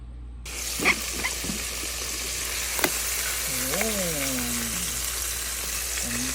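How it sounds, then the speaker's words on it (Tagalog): Chicken adobo sizzles steadily in hot oil in a pan, a constant crackling bed with a few sharper pops and a faint tonal whine, while a person speaks briefly over it. "Kaso mas gusto kong i-fry din para adobong fried chicken ang dating."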